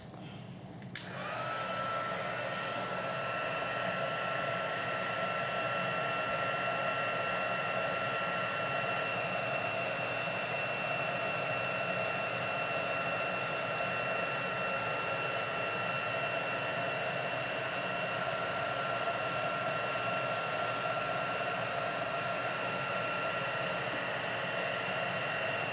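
A heat tool blows steadily to melt clear embossing powder in a papercraft project, a loud continuous whirring hiss starting after a brief click and running unbroken throughout.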